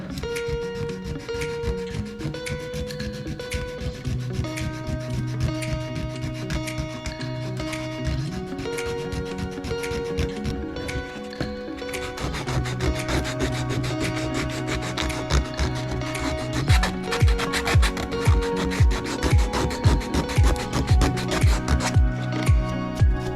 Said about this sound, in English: it's not going to be a ton of sanding